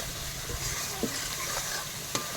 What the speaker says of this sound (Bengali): এখন হলুদটা দিয়ে মশলাটা আরেকটু নাড়বো